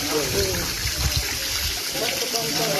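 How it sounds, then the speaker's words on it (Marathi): Water pumped by a 1 HP solar pump pours steadily into two rooftop tanks, making a continuous rushing flow with voices talking over it. "छतावर प्लेट बसलेल्या दोन्ही टाकीला पाणी चालू आहे"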